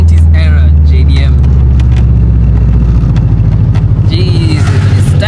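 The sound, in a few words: driving a 90s Subaru GC8 car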